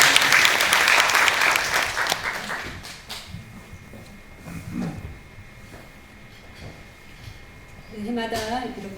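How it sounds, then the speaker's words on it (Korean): Warm applause from an audience welcomes a pastor at a memorial ceremony, loud dense clapping for about three seconds that fades away, followed by a voice speaking over quiet room sound. "이계신 목사님을 뜨거운 박수로 맞이해주십니다."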